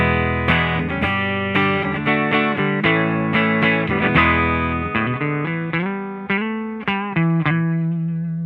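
An electric guitar plays a run of picked notes and chords through a homemade Madbean Runt distortion pedal set to low gain, giving a nearly clean, slightly filtered tone that is loud and steady with no voices.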